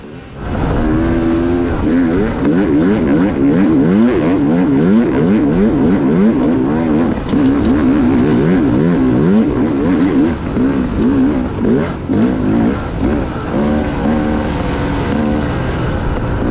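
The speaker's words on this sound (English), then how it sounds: "What's crazy are these whoops that formed on the way back to the top. I mean, just listen to the bike." Off-road motorcycle ridden hard over trail whoops at Peach Valley OHV, its engine revving up and down in rapid rhythmic surges, loud and close throughout, alone without talk.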